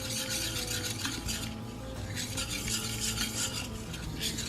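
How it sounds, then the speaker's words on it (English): A dough whisk stirs yeast into water for pizza dough, giving a dense, continuous swishing and scraping that runs unbroken through the whole stretch, with faint tonal sounds underneath and no talk. "Again, with my dough whisk, I'm going to stir this up."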